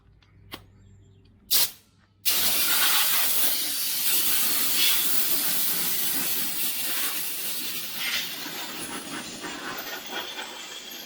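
Compressed air blasts out a John Deere LA145 mower deck in a loud continuous hiss after a couple of short clicks and bursts, holding steady for several seconds with no speech.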